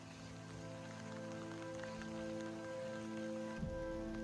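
Steady rain falls at Pinnacles National Park in California, a faint, even patter of drops on surfaces alongside a low tonal hum, continuous and without speech.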